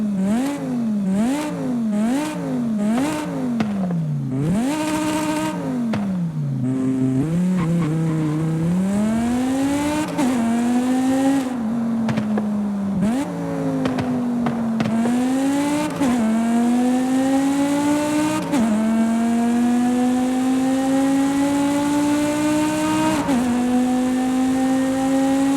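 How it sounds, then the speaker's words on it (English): BMW M5 with a V10 engine in Forza Horizon 5, revving loudly and steadily through rising gears with shifts and repeated climbs in pitch, heard up close without talk. "For BMW, we have the BMW M5, you know, that one with the V10."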